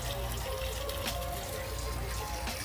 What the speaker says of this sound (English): it's splattering around, but you see it's collecting the water and it's not running off